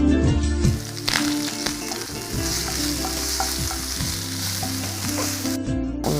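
Grated onion frying in hot oil with cumin and curry leaves, a loud steady sizzle with stirring scrapes throughout, close by and without talking.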